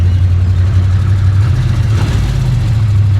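A 1966 Chevy Impala engine runs at high revs, a loud, constant low drone close by with no breaks and no voices.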